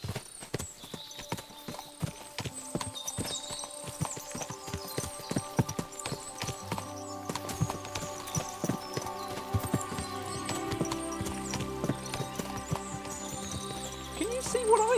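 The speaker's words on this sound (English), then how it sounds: "What a lot of horses!" Horses clip-clop in the medieval role-playing game Kingdom Come: Deliverance II, with steady overlapping hoof beats on the ground. A faint whinny and background music run through the scene, and a voice speaks briefly.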